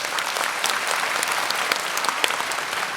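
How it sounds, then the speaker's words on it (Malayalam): Audience applause for the singer Sarath on a Malayalam TV show stage, dense steady clapping from a large crowd lasting throughout, loud and continuous with no talk over it. "ശരത് സാർ ഒരു വലിയ കൈയടി"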